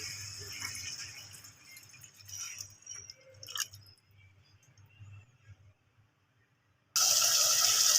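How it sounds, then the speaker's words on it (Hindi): Water pours and trickles into a pan of potatoes for a few seconds, then quiets before a sudden loud hiss at the end. "अब हम इसमें डालेंगे पानी, तकरीबन आधा गिलास"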